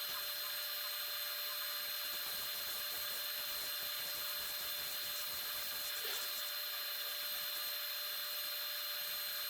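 A wood lathe turns a pine cone piece while a gouge cuts, giving a steady whining hiss with a constant tonal hum, faint and unbroken throughout.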